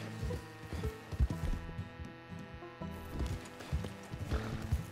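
Mule hooves plodding at a walk in the open-world western game Red Dead Redemption 2, a steady clip-clop that sits under a continuous bed of in-game music and ambience.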